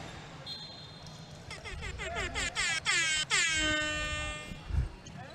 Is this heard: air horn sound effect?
yes